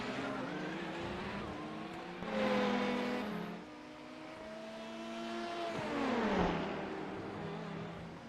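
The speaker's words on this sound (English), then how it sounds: "Engines flying by." Race car engines at Le Mans scream past one after another, each loud whine rising and then dropping in pitch as it passes close by, with a steady engine drone continuing between the passes.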